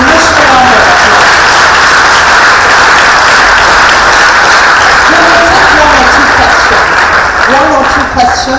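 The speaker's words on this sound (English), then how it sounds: "Please, a national round of applause." Loud, sustained audience applause at a career conference, a dense roar of clapping filling the room, with voices faintly audible beneath it.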